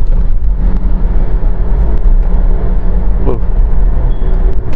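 Loud, steady rumble of a Toyota Kijang Innova moving at speed, with constant low road and engine roar heard from inside the cabin.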